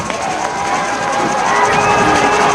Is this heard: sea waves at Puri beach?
no